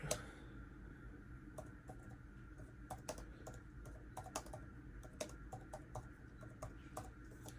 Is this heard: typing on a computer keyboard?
yes